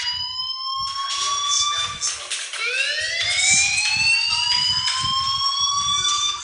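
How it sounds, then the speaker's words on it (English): A loud electronic fire alarm in the video game Life Is Strange wails steadily, its rising tone restarting partway through, with a rhythmic low thumping underneath. "do you hear that fire alarm? That means you should be outside."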